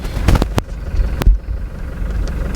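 Car engine running while driving, a steady low rumble throughout with a few louder thumps and knocks near the start, close and moderately loud, no talking.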